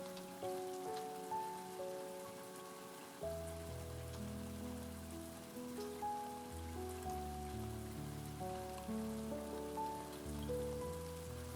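Gentle rain falls steadily in a garden as a soft, continuous patter beneath calm, sustained musical tones that play throughout.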